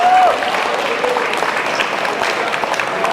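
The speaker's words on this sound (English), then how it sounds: "That deserves a round of applause for them." An audience at a Filipino community festival applauding, a steady wash of clapping at moderate distance with a faint voice near the start.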